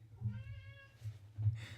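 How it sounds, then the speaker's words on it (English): A pet cat gives a drawn-out meow, moderately near, with a low steady hum underneath and a few faint rustles afterward; no one speaks. "That's our cat, by the way."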